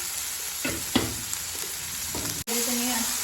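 Onion and tomato fry in a pan with a steady close sizzle, broken by a few stirring scrapes and a brief sharp clatter near the end.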